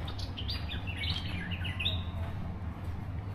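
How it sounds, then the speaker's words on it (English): Birds chirp in the morning outdoors in Thailand, giving quick, high tweets in scattered bursts. A low, steady background hum runs beneath them. "You hear the birds?"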